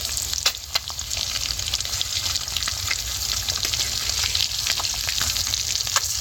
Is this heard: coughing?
no